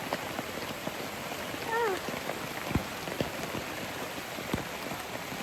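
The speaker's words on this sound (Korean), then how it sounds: "지금 비가 와 미쳤음." Steady rain pours down during a family camping trip, a dense constant hiss with occasional louder drips close by and a brief faint voice-like sound partway through.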